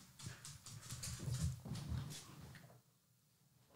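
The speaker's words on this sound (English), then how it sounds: "My dog is really hyper right now." A hyper dog playing and pouncing on another dog indoors, with scrabbling paws and thumps in a busy burst that fades into quiet near the end.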